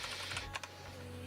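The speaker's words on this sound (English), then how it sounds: "I am so sloppy on the keyboard right now" Quick, fairly faint clicking of keys on a computer keyboard during coding, a short irregular burst of keystrokes over a steady low hum.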